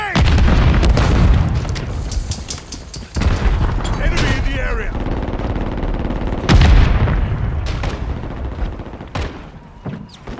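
Grenade blasts and heavy gunfire in a Call of Duty match, loud booms and crackling shots layered densely through the scene with voices and game chatter mixed in.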